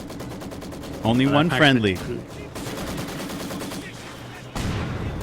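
Machine gun fire from a garrisoned MG in a Company of Heroes match, sounding as steady bursts in the background while a voice talks over the gameplay.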